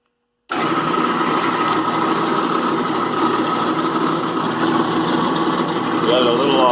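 A power drill boring out a broken extractor lodged in a broken exhaust manifold stud on an old Mack truck, starting abruptly and running as a steady whining motor drone, with a voice talking over it.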